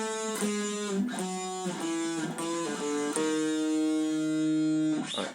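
An electric guitar plays a distorted phrase from a solo: a quick run of sustained, bending notes ending on a long held note, played alone with no talk.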